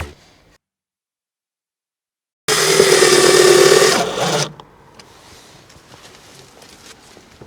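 A power tool drives a screw into wooden boards during renovation work, giving a loud, steady whirring burst of about two seconds that stops abruptly. Quiet background noise follows, and no one speaks.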